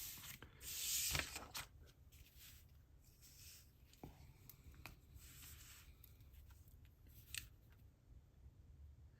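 A ballpoint pen nib drawing on paper: soft, close scratching and rubbing strokes, irregular and faint, with a few sharper scrapes and one louder rustle near the start.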